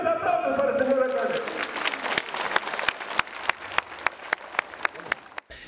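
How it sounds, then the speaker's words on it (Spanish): Applause for a town mayor at a municipal event, starting as a dense, loud round of clapping over some speech and thinning out into scattered individual claps that fade toward the end. "vamos a darle un fuertísimo aplauso para el señor alcalde"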